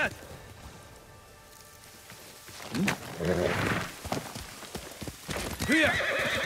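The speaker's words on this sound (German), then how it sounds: "Pferd!" Hoofbeats and a horse's whinny rise out of a low ambient background in the video game Ghost of Tsushima, with a second neigh near the end.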